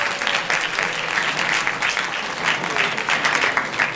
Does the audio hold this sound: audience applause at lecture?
yes